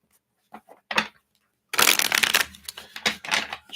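A deck of reading cards is shuffled by hand nearby, with a few short riffles and then a longer, dense burst of crisp card flutter and slapping.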